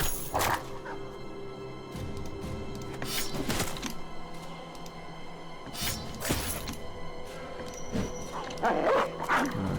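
A dog in a video game barks repeatedly in sharp bursts over a busy game background, with a few yips mixed in at moderate distance.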